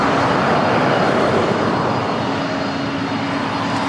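Delta Air Lines Boeing 767-300ER, 27 years old, taking off at LAX, a loud continuous jet engine roar with broad rumble, close and sustained throughout.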